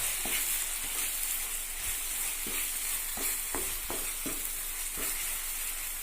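Ground masala paste, made without water, being stirred and sautéed in a pan: a steady sizzle with repeated spoon scrapes and knocks at an irregular pace, close and clear, no speech.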